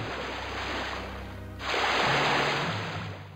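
Water splashes in the Star Wars Jedi Knight: Mysteries of the Sith video game, a steady rushing wash that swells suddenly louder midway as the character drops into the water.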